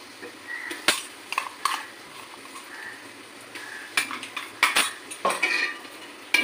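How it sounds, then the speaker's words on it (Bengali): Ginger, garlic and green chilli paste sautéed in a pan for a chicken tikka biryani masala, heard as a soft fry under repeated sharp spoon-on-pan clanks and scrapes, no voices. "ভালো করে কষিয়ে দেবো।"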